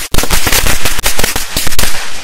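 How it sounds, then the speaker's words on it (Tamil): Rapid strings of small Diwali firecrackers crackle and pop loudly and close by, sharp bursts tumbling over one another in quick irregular succession. "சின்ன சீனி வெடி எவ்வளவு வெடி வெடிக்குது"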